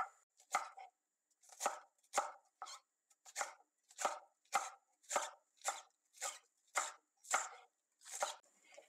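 Thin green onions being finely chopped with a knife on a board, a steady series of about fourteen crisp, close chops in an even rhythm, with quiet gaps between strokes.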